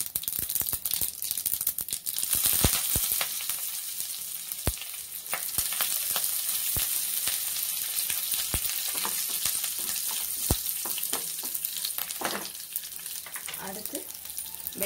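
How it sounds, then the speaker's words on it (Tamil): Mustard seeds and curry leaves sizzle and crackle in hot oil for garlic chutney, with a steady frying hiss broken by sharp pops and occasional stirring clatter, close and continuous. "கடுகு நல்லா தாளிச்சோம்னா நம்ம எடுத்து வச்சு கருவேப்பிலை கொஞ்சம் போட்டுக்கலாம்."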